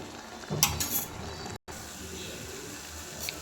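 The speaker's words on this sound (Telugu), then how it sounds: "ఈ చింతపండు కూడా టమాటాతో మంచిగా ఇలా దగ్గర అయ్యేలాగా మంచిగా కలపాలి" Tamarind being stirred into cooked tomato pickle in a pan, soft scraping and clinks of a spoon with a brief louder burst of stirring, under faint background noise.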